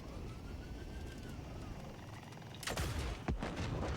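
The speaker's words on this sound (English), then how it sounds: "I don't know what was that second explosion?" Explosions in the looter-shooter game Borderlands: a loud blast erupts after steady background rumble, followed by a second sharp boom, both close and heavy.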